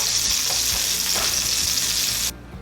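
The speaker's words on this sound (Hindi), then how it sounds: "जो फैट इसके अंदर शामिल था उसका वो फैट भी थोड़ा बाहर आ जाता है और उसी के अंदर ये फ्राई हो जाते हैं" Seekh kebabs frying in the fat released from their own meat, with a loud steady hiss and sizzle, faint stirring knocks, and an abrupt stop near the end.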